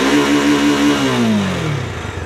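A Bajaj Dominar 400 motorcycle engine, loud and close, holds high revs and then winds down in a falling pitch as the throttle closes.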